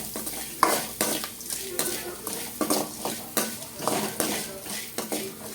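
Sliced onions sautéing in a pan for a pepper egg gravy, stirred with a utensil in repeated scraping strokes over a steady low sizzle, close and moderately loud.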